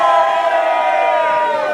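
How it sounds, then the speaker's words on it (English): An outdoor festival crowd at a bardic picnic gives a loud, unbroken cheer with shouts and whoops blending into a steady roar from many voices throughout. "How about a cheer for the Black Prince?"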